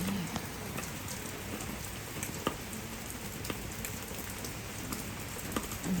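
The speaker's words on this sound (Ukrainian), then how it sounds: "Дощ іде вже майже тиждень." Steady rain falls on an autumn morning in Norway, a dense, even patter of drops on surfaces with occasional louder nearby splashes, continuous and without voices.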